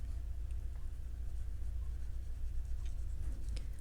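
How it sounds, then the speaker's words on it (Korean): Graphite pencil shading a cat drawing with continuous side-to-side strokes kept on the paper, producing a quiet, steady, soft scratching throughout with no talking. "이 음영을 넣어줄 때는 연필 종이서 떼지 않고 좌우로 반복하는 선"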